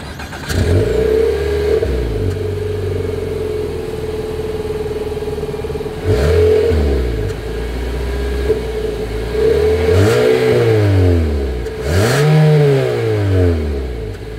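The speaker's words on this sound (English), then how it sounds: "As always, here is that exhaust clip." A 2022 Nissan Altima's engine revs up several times through the exhaust, each rev rising in pitch and falling back to a low rumbling idle, loud and close, with no talking.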